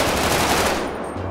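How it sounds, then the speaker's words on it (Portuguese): Rapid bursts of gunfire from a Brazilian GTA 5 roleplay shootout during a heist, dense and loud at first, then easing slightly toward the end. "Outro tiro lá."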